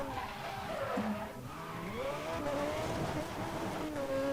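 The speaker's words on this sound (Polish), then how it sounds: "dźwięk z Need for Speed'a powinien być dobrze ustawiony" Tires skid and squeal in the Need for Speed racing game, a sustained wavering screech with rising and falling pitch over steady engine drone, loud and continuous with no talking.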